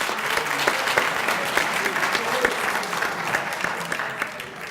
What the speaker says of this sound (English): Mr. Ndlovu, can you wave and we give you a round of applause?